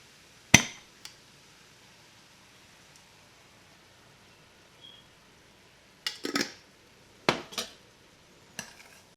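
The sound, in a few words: stirring corn, black beans and salsa into meat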